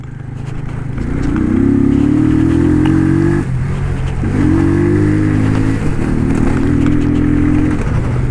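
A Honda CG motorcycle on the ride to school, its engine revving loud and close, rising in pitch through the gears in repeated surges, with no talking.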